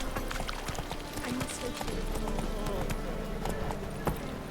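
Hooves of Roach, a horse in The Witcher 3 on Skellige, clip-clop steadily through the whole stretch, close and fairly loud, mixed with ambient game sound and some background chatter.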